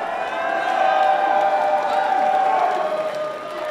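Crowd at a King of the Dot rap battle title match cheers, whoops and applauds steadily for a few seconds, a dense wash of noise at moderate distance.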